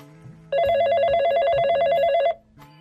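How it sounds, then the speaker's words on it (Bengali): An electronic telephone ring trills rapidly for about two seconds, loud and close, with soft music underneath before and after. "এইবার দিয়ে 20 বার ফোন দিল।"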